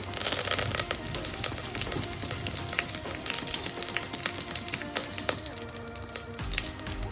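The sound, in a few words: mustard seeds, cumin and curry leaves frying in oil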